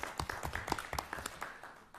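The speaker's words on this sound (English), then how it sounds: "Can I give a round of applause?" Faint, scattered clapping from a small group at a city government meeting, brief and uneven, fading after a couple of seconds.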